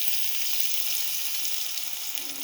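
Water splashed into a hot pan sets off a steady, bright hissing sizzle that continues evenly and close up, with no voices.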